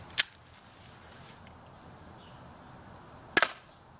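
An airsoft gun fires at a target outdoors, two sharp isolated snaps a few seconds apart over a quiet background hiss, with a faint tap in between.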